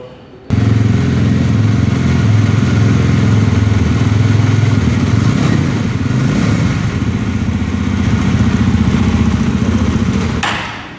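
A 2026 Yezdi Roadster 69 motorcycle starts up and runs inside a showroom, its single-cylinder engine thumping in a loud, steady idle close by, holding for around ten seconds before cutting off.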